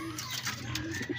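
Racing pigeons back at the loft after a training flight give soft, low coos, a few short calls close by that repeat near the end against quiet background noise.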